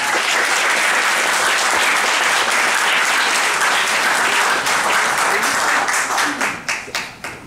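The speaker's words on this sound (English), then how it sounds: "Let's give another round of applause for George Preudhomme, winning." An audience applauds at a high school poetry contest, dense loud sustained clapping that fills the room and then thins into scattered final claps before fading out.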